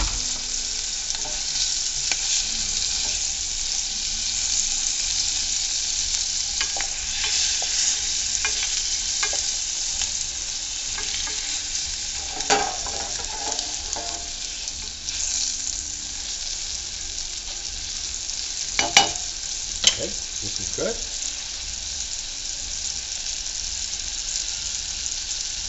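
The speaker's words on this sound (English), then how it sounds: "on va les sauter juste environ 30 secondes de chaque côté" Scallops sauté in a hot pan, about thirty seconds per side, giving a steady, close sizzle that runs unbroken throughout, with a few sharper crackles and pops near the end and no voices.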